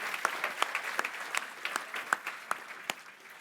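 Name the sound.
applause for award finalists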